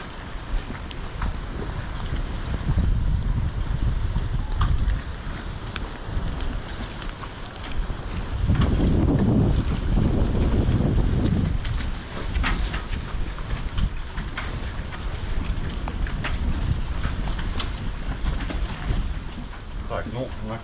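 A wooden boat motors along on open water in Turkey, a steady engine rumble under constant wind buffeting the microphone, with swells of louder low rumble and a voice speaking over it.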